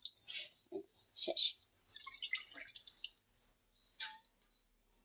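Water is sprinkled by hand onto rice-flour dough for roti: scattered, faint drips and wet splashes close by. A brief word is spoken among them.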